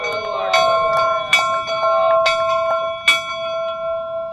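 A bell rings out at a Golden Spike reenactment in Utah, several clear metallic strikes with long ringing decay, fairly close and prominent.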